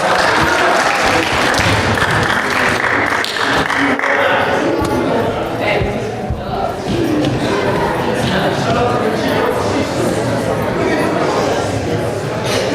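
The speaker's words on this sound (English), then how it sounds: "Give him a round of applause." An audience applauds steadily, a dense wash of clapping that keeps going for several seconds, with some voices mixed in.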